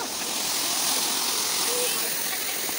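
Water flows steadily in a forest, a continuous broad rushing hiss with no breaks, moderately loud and close.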